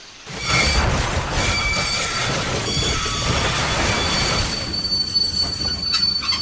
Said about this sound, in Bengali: একটা ফাঁকা জায়গায় একটা ট্রেন থামলো